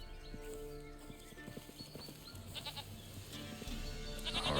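Video game goat from The Witcher 3, its hooves clip-clopping in a steady rhythm alongside bleating, set against a busy layered game soundscape at moderate level.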